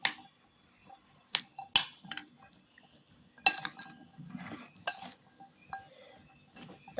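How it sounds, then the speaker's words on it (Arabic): A utensil stirs chickpeas with oil and spices in a pan, giving sparse, close metallic clinks and scrapes with quiet gaps between them. "وغادي نحرك هكا"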